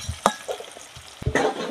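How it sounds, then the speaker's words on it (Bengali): Potatoes fry in hot oil with a soft sizzle, broken by a few brief scraping stirs of a spatula, close and fairly quiet. "তো দেখো আলুগুলো ভাজা হয়ে গেছে"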